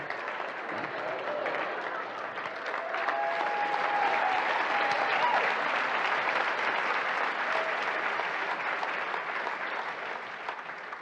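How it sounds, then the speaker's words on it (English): An audience claps together, a broad, steady wash of hands swelling slightly midway and holding for several seconds, with faint voices mixed in. "They're clapping for you."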